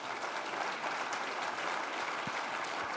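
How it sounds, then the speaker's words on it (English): Audience applause for a panel of authors at a history book talk, steady continuous clapping from a crowd, fairly soft and distant throughout. "Round of applause for our panel."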